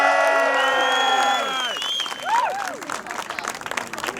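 A small crowd applauds and cheers at a surprise gathering, with whoops and excited shouts rising over steady clapping, loud and close, continuing for several seconds.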